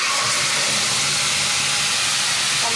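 Tomato paste hitting hot oil in a wok, a loud, close, dense hissing sizzle that holds steady without letting up, with no voices.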